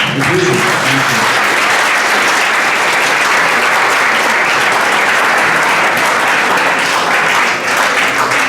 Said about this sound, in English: I think a big applause for all the questions and conclusions.